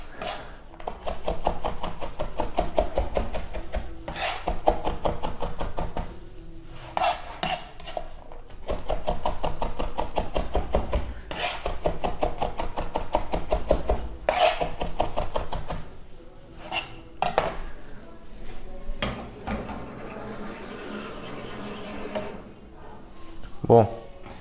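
A sharp knife chops an onion on a board, giving repeated quick chopping bursts with pauses and some kitchen clatter, while a person talks throughout.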